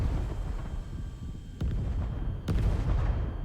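In the retro flight sim Tiny Combat Arena, a locked-on weapon fires at BTR armored vehicles, producing two sharp distant-sounding blasts over a continuous low engine rumble.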